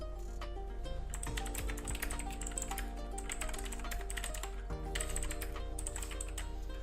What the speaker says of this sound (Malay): Bunyi keyboard dia agak kuat sebab blue switch kan.